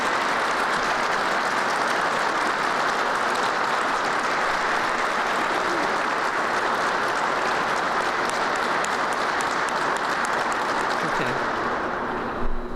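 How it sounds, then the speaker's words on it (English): Sustained, dense applause from a large audience at a Chicago Fire Department graduation ceremony, loud and steady throughout before tapering slightly at the very end. "Give them a round of applause."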